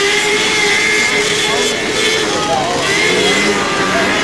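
A racing tractor fitted with a 600cc Kawasaki motor whines at high revs during a tractor race at Temecula, droning steadily under a commentator talking over it.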